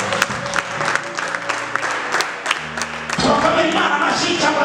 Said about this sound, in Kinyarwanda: Turakomera Imana amashyi cyangwa ntabwo